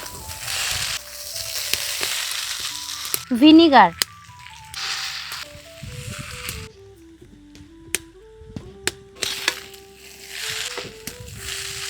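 Chowmein with vegetables and a fried egg stir-fried in a pan, giving bursts of sizzling and scraping that come and go under a person talking, with a melodic tonal sound running alongside.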